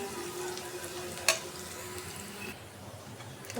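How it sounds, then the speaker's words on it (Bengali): Dried chillies frying in hot oil as tempering spices for a Bengali vegetable dish, a steady continuous sizzle with one brief sharp crackle partway through. "ফোড়ন দিয়ে দিলাম, আর শুকনো মরিচ দিয়ে দিলাম ফোড়নে"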